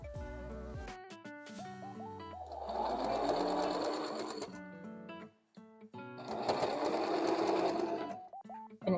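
A sewing machine stitches the unfinished sides of a fabric leg warmer made from old pants, running in two sustained rattling spells of a few seconds each, separated by a brief pause, with no talking.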